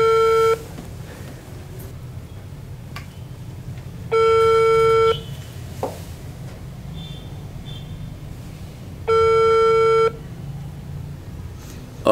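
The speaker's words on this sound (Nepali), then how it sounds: "फोनको घन्टी गइरहेको छ रञ्जनाजीलाई, फोन उठिरहेको छैन।" An unanswered outgoing telephone call: ringback tone sounds in three loud, evenly spaced bursts of about a second each, separated by long pauses filled with low background hum.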